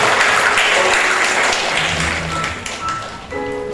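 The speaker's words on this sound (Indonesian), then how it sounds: "kasih aplaus" A seminar audience on education curriculum breaks into loud, dense applause that fills the room, then tapers off with a few scattered claps and murmurs near the end.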